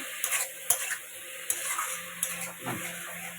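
Koi fish curry masala with cauliflower sautés in a pan: a soft background sizzle broken by several sharp spatula taps against the metal in an irregular rhythm.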